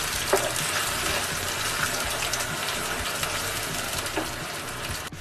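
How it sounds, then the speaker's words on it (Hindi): Ground onion paste sizzles steadily in hot oil over a high flame while cooking chicken angara, a dense continuous frying hiss with no one speaking. "प्याज का पानी सूखने तक इसे हम अच्छे से तेल में हाई फ्लेम के ऊपर भून"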